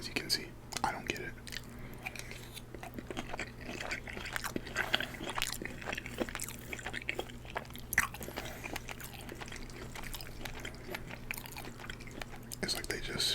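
Close, soft chewing and biting of a Chipotle chicken al pastor burrito bowl with sour cream, small wet crunches and utensil scrapes recurring steadily under faint whispery background sound.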